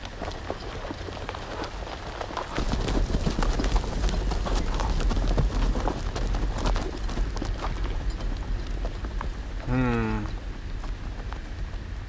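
Horse hooves clip-clop at a steady gait amid rain-like hiss in a Game of Thrones video game, continuous and moderately close, with a brief rising tonal sweep near the end.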